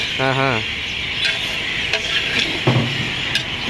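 Brinjal thokku being stirred and fried in a large pot for about 300 people at a catering event, with steady sizzling, scraping ladle strokes and clanks against the metal, and a short voice at the start.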